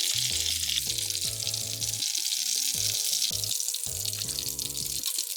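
Broccoli frying in a pan, a steady loud sizzle throughout, with soft background music underneath.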